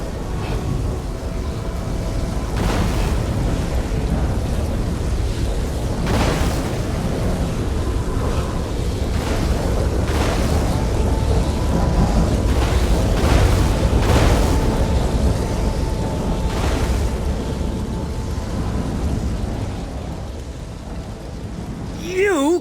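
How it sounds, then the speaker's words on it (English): Booming thunder-like bursts from a lightning spell in The Elder Scrolls Online, a loud sustained rumble with repeated crackling strikes layered through the clip, with a voice briefly in the mix. "More lightning! I have plenty to go around!"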